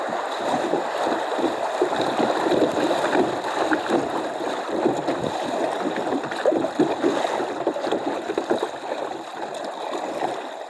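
Kayak drifting down a muddy, high-running river, with a steady rush of moving water and wind buffeting the microphone, fairly loud and continuous throughout, with no talking.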